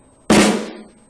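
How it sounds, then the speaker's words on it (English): A single right-hand flam on a snare drum, the left stick landing just ahead of the right for a fat doubled crack that rings briefly with snare buzz, close and alone. "Notice that when playing a right flam, the left stick actually strikes the drum first."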